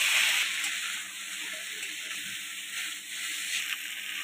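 Ginger paste with coriander-cumin powder fries in a pan for a Bengali shukto, giving a steady, fairly soft sizzle with faint stirring scrapes and no talking.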